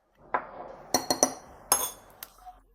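Honey cake mixture stirred in a bowl: a handful of sharp clinks and taps as the utensil strikes the bowl, irregular and close, each knock ringing briefly, with no talking.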